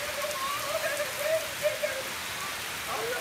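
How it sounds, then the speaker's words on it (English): Steady rain falls outside, a dense even hiss of drops on surfaces, fairly close and continuous, with faint tonal squeaks drifting through it. "We're gonna go out there in the rain"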